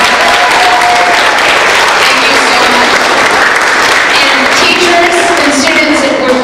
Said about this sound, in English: We want to give another round of applause for Lieutenant Governor.